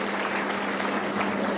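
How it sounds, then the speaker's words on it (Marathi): An audience at a political speech in Maharashtra claps together, a dense, steady wash of applause that holds evenly throughout. "नरेंद्रभाईंचं मनपूर्वक टाळ्या वाजवून जोरदारपणे आपण स्वागत केलं पाहिजे"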